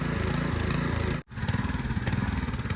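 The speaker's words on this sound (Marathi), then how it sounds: "हे ट्रॅक्टर आपले छोटेसे खूप हँडी असतात" A small tractor engine chugs loudly and close in a rapid steady rhythm, briefly cutting out midway before running on, in a muddy rice paddy.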